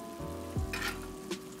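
Fish curry reduces uncovered in a hot pan, giving a soft steady sizzle with a couple of brief scraping stirs of a spoon, close and fairly quiet.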